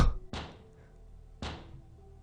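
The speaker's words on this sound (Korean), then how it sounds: "문을 더욱 크게 두드리기 시작했다" Two heavy knocks strike a steel door in a horror radio drama, each a loud, resonant thunk with a short ringing decay, spaced about a second apart with no voices.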